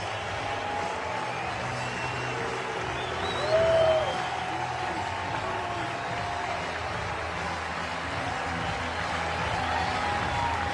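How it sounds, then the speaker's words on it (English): Distant crowd applause from baseball fans giving Detroit Tigers pitcher Tarek Skubal a standing ovation, a steady wash of clapping with faint cheering, heard under a broadcast-like background. "They just clapped and blew for another 30 seconds."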